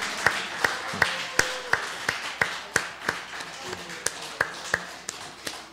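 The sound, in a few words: applause from the congregation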